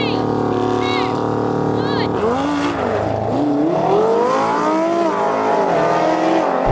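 Cars race side by side, engines revving and climbing in pitch as they accelerate hard from a standing start, loud and close, with a voice speaking over the roar.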